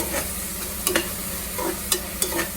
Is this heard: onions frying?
yes